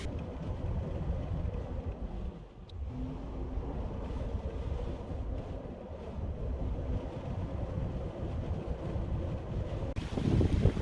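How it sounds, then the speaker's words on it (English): Wind gusts across Lake Kavanaugh in the foothills during a fall storm, a steady low roar buffeting the microphone, with lapping water and boat-like rumble underneath and no talking. "If you can hear me over the wind"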